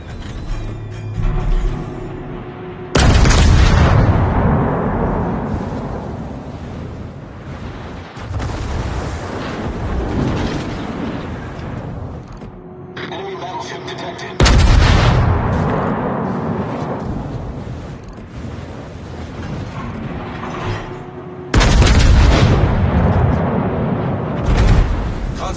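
Anti-aircraft guns in a naval battle game fire in heavy booming salvos, each a sudden loud blast that decays into rumbling and mechanical rattle, repeating several times at intervals of a few seconds.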